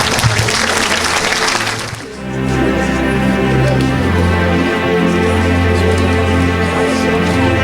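A church congregation breaks into a burst of loud applause and cheering for the first two seconds, then gives way to sustained organ-like musical tones and a steady crowd din that continue to the end.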